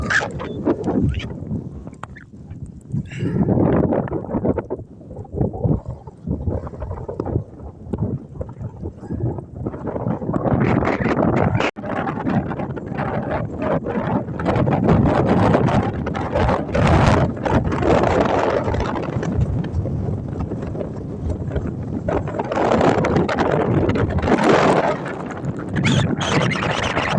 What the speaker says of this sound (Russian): Жесть, ураган какой-то.